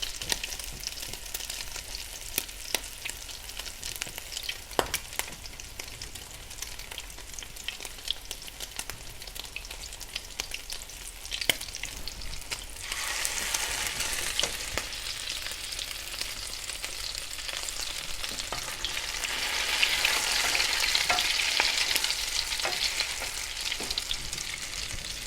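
Salmon cakes, flattened with a spatula, fry steadily in a pan with a continuous close sizzle, swelling louder in bursts midway and near the end, plus occasional sharp pops and crackles; no voices.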